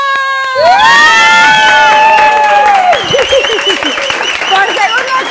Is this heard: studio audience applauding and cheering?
yes